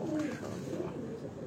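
A pigeon coos softly on a Lahore rooftop, a brief low murmuring call over faint outdoor background noise.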